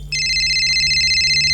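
A phone ringing with a steady electronic tone that starts suddenly and holds loud and unbroken, heard alone without talk.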